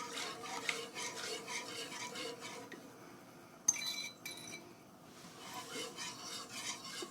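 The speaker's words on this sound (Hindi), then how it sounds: "और हम चम्मच को चलाते रहेंगे।" A spoon stirs rice paste and full cream milk in a pan, making soft, faint scraping and swishing strokes with occasional light metallic clinks against the pan, heard alone without talk.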